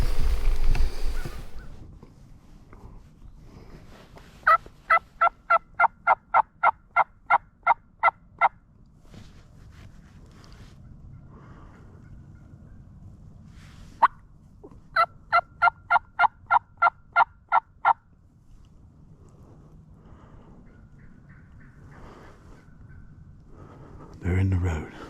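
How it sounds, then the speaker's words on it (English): Wild turkey gobbling in Florida woods: two distinct rapid rattling gobble bursts several seconds apart, each a quick run of a dozen pulses, heard at moderate distance over quiet outdoor background. "So he's gonna gobble again."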